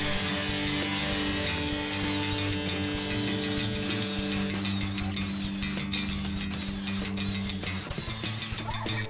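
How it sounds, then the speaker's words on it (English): Drill boring pocket holes through half-inch material in a Kreg pocket hole jig, a loud continuous grinding whir with shifting pitch and rattling bit chatter, close and sustained throughout. "I just set up my Craig pocket hole jig for 1/2 inch material"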